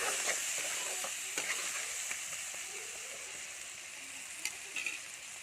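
Potatoes frying in oil with onion and turmeric, a steady bright sizzle with occasional stirring scrapes and small pops, close up and constant, no talking.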